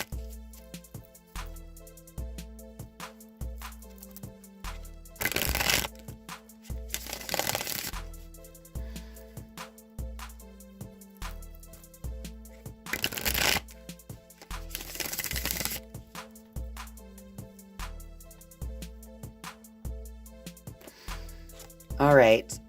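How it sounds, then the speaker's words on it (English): A Rider-Waite tarot deck is shuffled by hand in soft repeated riffles and taps, with a few louder bursts of card noise, quiet and close, against a faint steady tonal background. "I'm going to go ahead and shuffle the Rider-Waite deck now"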